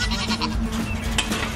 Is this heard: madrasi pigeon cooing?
no